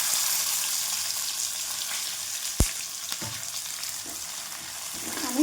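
Onion dropped into hot oil with roasted peanuts for kanda poha, a sharp sizzle burst followed by steady frying hiss and occasional stirring clinks, fairly close.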